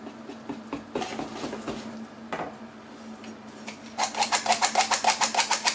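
A whisk stirs spelt flour in a bowl, giving soft scraping at first and then a quick, regular run of bright metallic clicks against the bowl.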